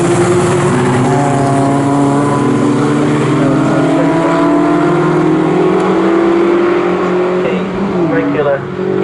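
Mazda race cars scream past on the final lap of a race at Snetterton, their engine notes rising and falling in loud, overlapping harmonic whines under continuous commentary.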